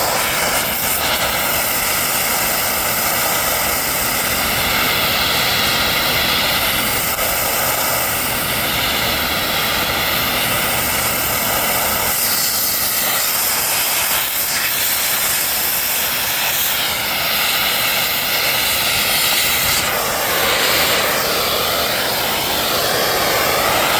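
A cutting torch flame roars steadily as it cuts into the inner race of a forklift mast roller, a continuous loud, hissing blast that wavers slightly as the flame is moved around, with no talking.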